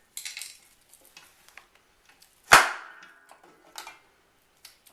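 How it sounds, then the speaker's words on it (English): A metal mixing bowl is lifted off a stand mixer with one sharp clang that rings out briefly, surrounded by faint scattered clicks and light knocks in a quiet kitchen. "Take my bowl off my stand mixer."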